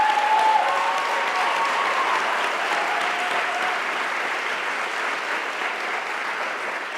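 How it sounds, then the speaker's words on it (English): Audience applause for Tennessee's Teacher of the Year, a 13-year Metro Nashville Public Schools veteran, at a state of schools event; steady, dense clapping from a large crowd, fairly loud and sustained throughout, tapering slightly toward the end. "Give her a round of applause."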